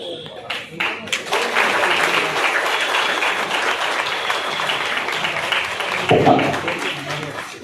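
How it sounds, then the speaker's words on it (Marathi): An audience at an anniversary function of a music academy breaks into strong, sustained applause that fills most of the clip, with voices mixed in over the clapping. "जोरदार टाळ्या होत्या."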